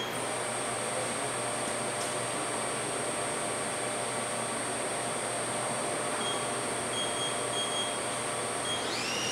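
A Southwestern Industries Trak LPM vertical machining center spindle runs at 1,000 RPM, giving a steady electrical whine and hum in a workshop, with a faint rising tone near the end; no talking.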